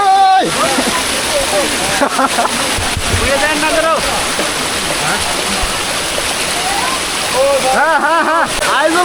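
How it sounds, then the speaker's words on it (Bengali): The waterfall at Jaflong rushes loudly and steadily while people bathe in it, with splashing and lively voices calling over the constant roar. "গোসল করতেছে জাফলং এর ঝর্ণায়"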